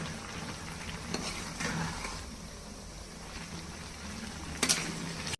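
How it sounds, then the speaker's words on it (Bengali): Spinach cooks over medium heat in a pan with a quiet, continuous sizzle and a few stirring scrapes and clinks, one sharper utensil knock near the end, and no voices. "এখন সবগুলো একসাথে ভালো করে নেড়ে নিব।"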